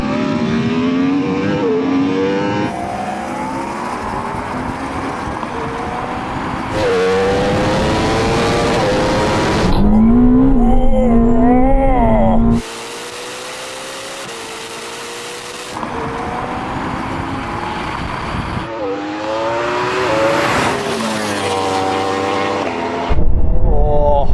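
Several launches from a drag race between a Ferrari SF90, a Porsche Taycan Turbo GT and a Yamaha R1M. Engines rev loudly and rise in pitch in repeated bursts, with sharp cuts between runs and people talking over parts of it.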